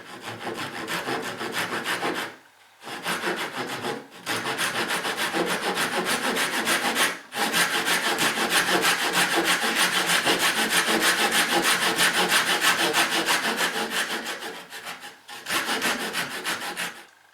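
A hand saw cuts a wooden rebate in a board clamped in a vise, with long rhythmic rasping strokes close by, broken by a few short pauses as the cut is reset, and no talking.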